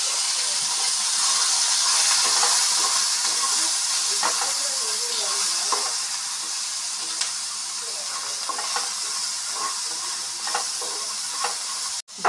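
Crabs sizzle and hiss steadily in a hot pan with chili powder, salt and turmeric, a dense, close frying crackle with small pops throughout, ending in a brief knock.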